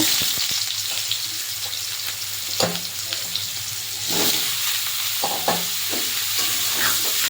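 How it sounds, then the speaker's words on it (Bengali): Raw jackfruit fries in hot oil in a wok, a continuous loud sizzle and crackle with occasional stirring clatters, heard close with no speech. "গরম হয়ে গেছে, এবার এঁচোড়টা একটু ভেজে নেব।"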